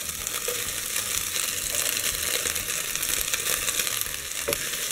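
Chopped onion hits ground meat in a hot pan and fries with a steady, dense sizzle, loud and close throughout, with occasional soft scrapes of stirring and no voices.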